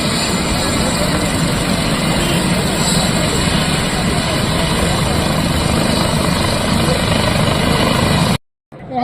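A helicopter drones loud and steady overhead with a constant rotor and engine roar that cuts off abruptly near the end.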